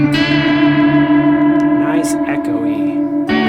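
Electric guitar played through an echo effects pedal, sustained tones ringing with repeating echoes and reverb tails, fairly loud and continuous, with a short burst of speech partway through.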